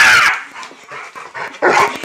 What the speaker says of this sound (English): and we've got another wild dog.